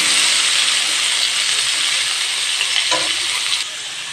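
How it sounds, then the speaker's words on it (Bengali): Dried ingredients frying in hot oil, a continuous close sizzle with a faint clink of stirring near the end, no one talking. "শুকনোগুলো ভালো করে ভেজে নেব।"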